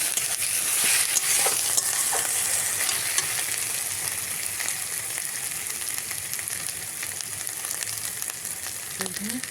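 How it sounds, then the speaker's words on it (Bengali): Ginger paste being stirred in a hot frying pan for chicken curry, a steady close sizzle and hiss with scattered scraping strokes of a spatula running throughout, no talking. "আদা বাটা দিয়ে একটু নেড়ে নেবো, একটু এদিক ওদিক করে ভালো করে একটু নেড়ে নেবো"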